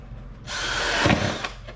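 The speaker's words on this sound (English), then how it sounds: "next up, taking a drill bit to it. It's the biggest drill bit out there." A large drill bit bores through a carbon fiber GT500 car wing with a loud, continuous power-tool whine and grinding that builds and then eases, heard close with no talking.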